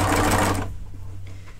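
Sewing machine stitching a neck band onto a tee, running loud and close in a steady whir for about half a second before stopping, leaving a low hum.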